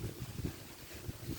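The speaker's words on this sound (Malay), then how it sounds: "Tengok angin kuat hari ni" Faint, gusty wind blows outdoors on an overcast day in a rural village near oil palms, buffeting the microphone in low, uneven rumbles.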